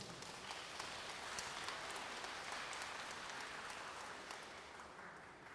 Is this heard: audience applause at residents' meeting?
yes